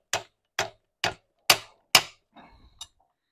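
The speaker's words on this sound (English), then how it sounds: "now we get a little soft mallet, hammer this up tight." A soft mallet strikes a Bafang BBS02 mid-drive motor part on an e-bike five times in a steady rhythm, each knock crisp and close, followed by a few lighter taps and small handling noises.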